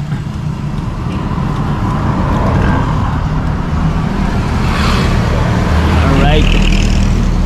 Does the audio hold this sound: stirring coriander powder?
no